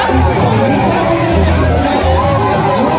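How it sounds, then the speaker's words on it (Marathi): A large crowd cheers and chatters loudly and continuously after the dahi handi pot is broken, at the well-based dahi handi in Kurdus village, Alibag taluka, in 2025. "तुम्ही पाहू शकता आता किती जल्लोष करतात इतकी लोक"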